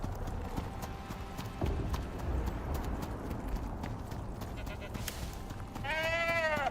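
A goat in the survival game Icarus bleats in a short wavering burst near the end, over steady clip-clopping hooves and ambient game noise.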